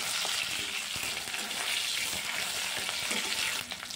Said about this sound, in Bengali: আলুটাকে দিয়ে একটু ভাজা ভাজা করে নেব নাড়াচাড়া করে